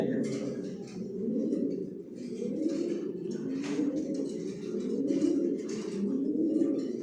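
Pigeons coo in a loft while the birds rest after feeding, a steady overlapping murmur of soft low calls running throughout with faint chirps above, no voices talking.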